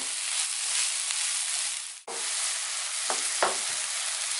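Mushrooms sizzle and fry with sugar in a hot pan as they caramelize, a close, steady hiss broken by a brief dip and a couple of stirring scrapes near the end.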